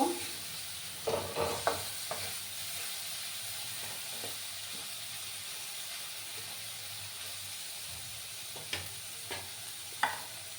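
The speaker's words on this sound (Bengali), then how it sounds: "মশলাটাকে ভালো করে আমি কষিয়ে নেব" Spice paste stirred and fried in a pan for Sylheti forash bichi, a steady low sizzle under occasional scraping clinks of the spoon against the pan, fairly quiet and close.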